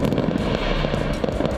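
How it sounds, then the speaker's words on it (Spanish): Fireworks launched at night in a residential street of the Estación Central district, a dense, continuous crackling barrage of loud popping bursts with no pauses. "El lanzamiento de los fuegos artificiales se extendió por cerca de 2 minutos en plena madrugada del jueves 17 de marzo"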